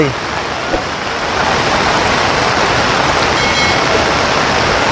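Floodwater after heavy rain pours over a bridge in a loud, constant roar close by, swelling slightly after the first second.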